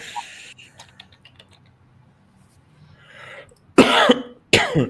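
A presenter on a live talk coughs twice near the microphone, two short sharp bursts close together after quiet moments with light keyboard tapping.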